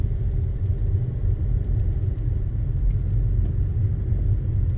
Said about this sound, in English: so I'm going to clutch down into third